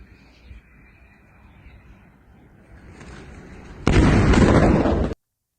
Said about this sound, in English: I think we have a video here of a missile strike.